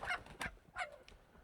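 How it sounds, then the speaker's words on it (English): Chickens on a homestead squawk and cluck in several short, agitated bursts, faint and somewhat distant, with gaps between the calls. "the chickens are making a ruckus"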